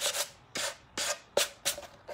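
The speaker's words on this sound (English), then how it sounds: "this is like a used 220 grit sandpaper" Worn 220 grit sandpaper rubs across wood for a DIY serving tray in five short, rhythmic rasping strokes, close and fairly quiet, with no talking.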